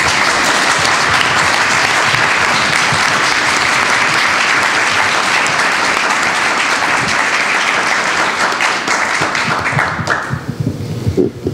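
Board of education meeting audience applauding newly appointed board members, sustained dense clapping from a large crowd throughout that thins and tapers off near the end.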